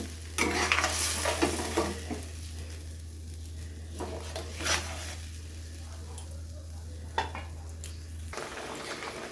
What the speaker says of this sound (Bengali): এবারে কিছুক্ষণ একটু নাড়াচাড়া করে কষিয়ে নেব।